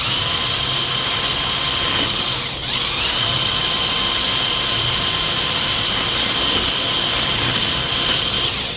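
A drill spins a Titan wheel hub cleaning kit pad at high speed with a loud, steady whine that dips briefly once before carrying on, with no talk over it.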